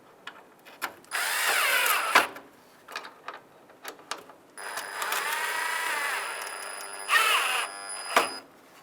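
Power drill driving screws into the corner light trim of a 1992-1996 Ford F-150, several bursts of whining motor of varying length with short pauses and clicks between them, close and clear.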